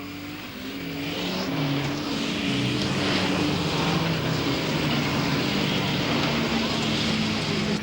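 Modified sedans race at Bunbury Speedway in Australia during a 1994 title event, their engines making a loud, sustained roar that builds and holds while an announcer talks over it.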